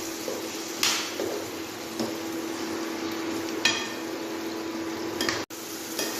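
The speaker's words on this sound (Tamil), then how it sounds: "வதங்கி வரும்போது அதனுள் நாம் வெட்டி வைத்திருந்த தக்காளி பழத்தை இட்டு அதையும் சேர்த்து" Chopped tomatoes sautéing in a pan for tomato rice, a constant gentle sizzle with a few soft scraping strokes of a spoon and one brief clack.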